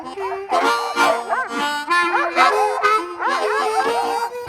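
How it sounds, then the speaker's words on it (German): A Norwegian sled dog pack barks, yips and howls together in an excited, overlapping chorus, loud and close, with rising and falling howls woven through rapid barking. "Das Rudel geht auf die Pirsch und jeder Hund will mit."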